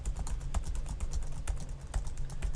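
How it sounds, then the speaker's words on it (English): Rapid, steady keystrokes on a computer keyboard, close and fairly quiet, with no voices over the clatter. "you can probably hear that I'm still typing"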